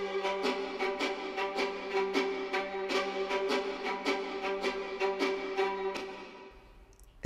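Violins play staccato octaves from G down to G, with a quick, even stream of short detached notes over a sustained low tone, which stops abruptly near the end.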